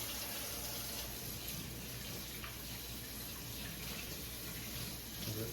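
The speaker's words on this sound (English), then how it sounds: "Wash my hands real quick." Tap water runs steadily into a sink as hands are washed to rinse off lighter fluid, a continuous close hiss with faint splashing throughout.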